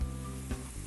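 Tofu sautéing with garlic, grape tomato and cilantro in a hot pan, a steady close sizzle with a brief louder burst of frying as food is stirred or shifted.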